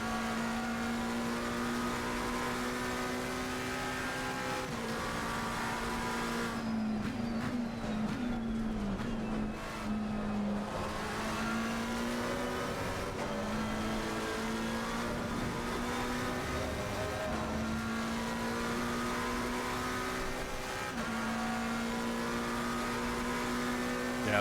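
McLaren race car engine in a racing video game, a steady loud whine held throughout with gear shifts and pitch swells, plus a brief tyre-like squeal midway, with no talking.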